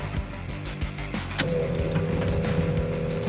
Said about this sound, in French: Ce qu'on entend là, c'est la pompe à essence électrique.